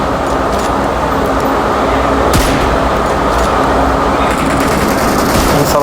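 Dense, loud gunfire from the PUBG Mobile video game fills the clip with continuous crackling bursts and rattling shots, close-up and without pause.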